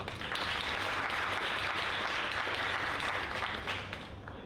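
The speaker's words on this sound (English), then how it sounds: "Let's give a round of applause to Linda." A round of applause for an award presenter at an expat entrepreneur awards event, a full, continuous clapping crowd that holds steady and then begins to thin toward the end.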